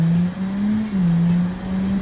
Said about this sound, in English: If I put it into neutral and rev it up.